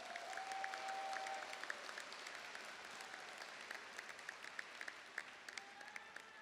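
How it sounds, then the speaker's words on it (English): Faint, distant applause from an audience at a fall commencement ceremony for the Lucas College and Graduate School of Business, a soft wash of clapping with scattered sharper claps poking through. "we should all give ourselves a round of applause for that work"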